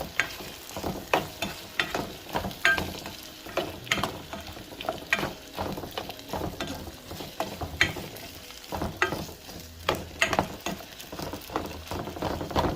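Potatoes and basmati rice sizzle in oil in a pan while being stirred and scraped, a steady close frying hiss broken by irregular clattering utensil strokes, with no talk.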